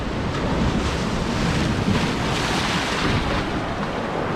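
Rough lake water crashes by the Fairport Harbor lighthouse in Ohio, with waves surging continuously against the shore and gusting wind buffeting the microphone.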